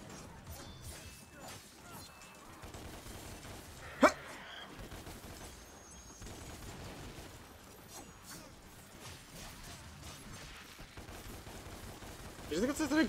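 Gunshots in DmC Devil May Cry, a sharp single bang at about four seconds and a louder flurry at the end, both over busy game action.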